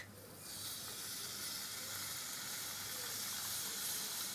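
Warm water is poured into a pot of cooking Tunisian mloukhia and sets off a steady, loud steam hiss and sizzle that holds for several seconds.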